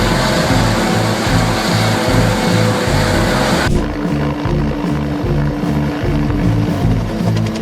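Helicopter rotor chop and turbine roar, loud and close, a steady rhythmic thumping of the blades as the aircraft lifts off and tilts steeply near a dynamic rollover, with a sudden drop in high whine partway through.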